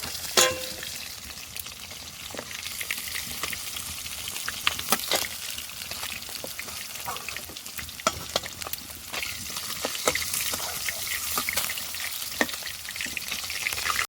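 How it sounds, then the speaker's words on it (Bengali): Small fish sizzle and crackle in hot oil, with frequent sharp pops and spatters over a steady hiss, close up, no voices. "এবার এই যে ছোটো চারাগুলো ভেজে নেব"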